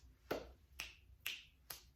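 Four crisp finger snaps ring out close and clear, evenly spaced about half a second apart, with nothing else behind them.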